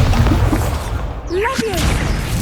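Incendio fire spell cast in Hogwarts Legacy, a loud whooshing burst of flame with swirling, sweeping tones over dense, continuous game noise.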